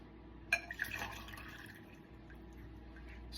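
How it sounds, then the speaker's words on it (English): Liquid poured into a cup, a short splashing burst with a few bright glassy drips at the start, then a soft fading trickle in a quiet room. "Fill this cup up"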